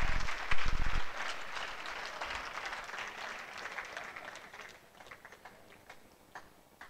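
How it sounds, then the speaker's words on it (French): A church congregation applauds, loudest at the start and then thinning into scattered claps that fade away toward the end. "il faut l'applaudir là"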